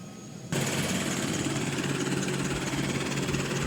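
A helicopter carrying Yogi Adityanath powers up for take-off, its engine and rotor noise cutting in abruptly and then holding as a loud, steady, close roar that fills the rest of the moment.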